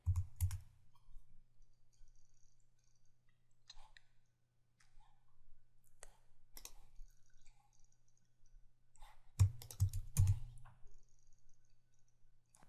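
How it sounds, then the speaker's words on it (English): Typing on a computer keyboard while editing code: sparse, faint key clicks scattered through quiet stretches, ending in a quick burst of several louder presses. "pressing the Tab key on my keyboard to indent it"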